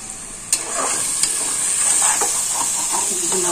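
Beef dropped into a pot of frying spices and chana dal for a Bangladeshi beef curry with raw jackfruit, sizzling and hissing steadily and close up, with a couple of sharp clinks of a spoon against the pot.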